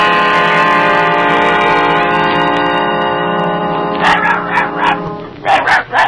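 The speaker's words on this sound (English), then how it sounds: "Look, it's Dorothy's dog." A small dog in a radio drama yaps in a quick burst of sharp barks near the end, after a sustained bell-like tone fades.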